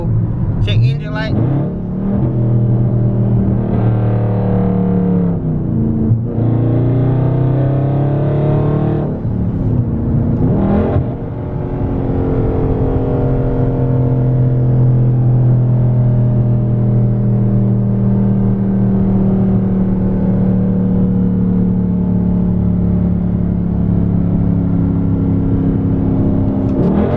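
A 2019 Dodge Charger Scat Pack V8 with its catalytic converters removed revs loudly in a few throttle blips, then settles into a steady, deep, close rumbling idle, with a voice briefly over the engine.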